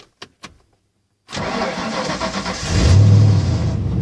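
A 1995 Ford Mustang 5.0 V8 cranks briefly and catches, settling into a loud, close, rough idle that swells as the engine revs up slightly near the end, after a couple of faint clicks in near silence.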